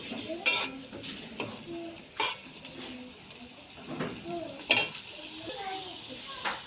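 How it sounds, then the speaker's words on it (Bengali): Leafy greens tipped into a frying pan with lightly fried onion and stirred, giving a soft sizzle under several sharp scraping and clattering strokes of a utensil against the pan, close and intermittent. "এখন আমি শাকটা দিয়ে দেবো পরিমাণ মতন"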